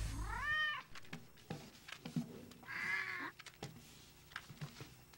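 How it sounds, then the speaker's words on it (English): A cat meows twice, loud and close, with harmonic cries separated by a pause, alongside a few short clicks and knocks in a quiet room. "Does your cat make too much noise?"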